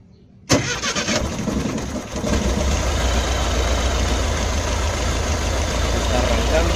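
A tired, slightly oil-burning engine in a VW Combi or Beetle cranks and catches with a sudden loud burst, then settles into a steady rough idle close by, with voices faintly in the background.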